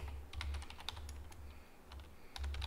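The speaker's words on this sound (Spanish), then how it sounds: "Escribo la palabra title y, por ejemplo, gráfica." Fingers type a short word on a computer keyboard, giving soft, quick keystroke clicks in two brief bursts against a quiet background hum.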